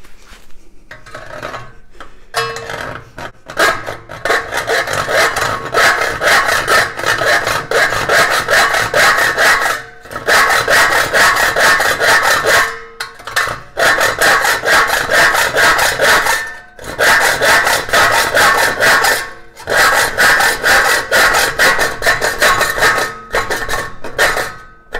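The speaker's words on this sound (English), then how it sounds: "that will allow hopefully the hacksaw to run easier in that position there" A hacksaw cuts through 50 x 50 steel trunking in long, steady back-and-forth strokes, close and loud, broken by a few short pauses, with no talking.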